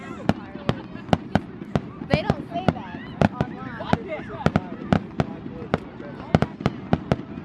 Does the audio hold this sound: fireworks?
yes